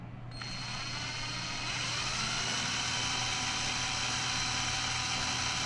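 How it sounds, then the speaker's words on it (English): An electric drill spins steadily to drive a Hall sensor during RPM input testing of a DIY Speeduino ECU. Its continuous close, loud whine shifts in pitch as the trigger pressure changes the speed. "तो इसकी speed I can control by the pressure I am putting on the trigger, that is on the drill का trigger"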